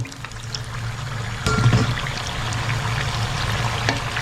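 Shrimp spring rolls in very hot oil for a second deep-fry give a steady broad sizzling hiss that swells slightly midway, with no talking.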